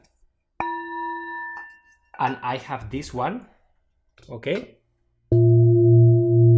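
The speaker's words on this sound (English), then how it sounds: "Option number 2 is playing the singing bowls." A singing bowl rings out with a sustained metallic tone, then a voice speaks briefly before a second, deeper bowl strike hums on steadily.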